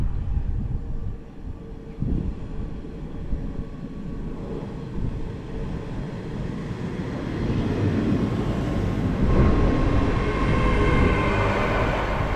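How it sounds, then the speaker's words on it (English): A TransPennine Express diesel train pulls into a platform, its low rumble and rolling noise swelling gradually and growing louder toward the end, with no talking. "arriving in now is the 1815 Transpennine Express service to Newcastle from Edinburgh"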